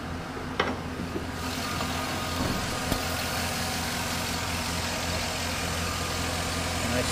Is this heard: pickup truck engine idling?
yes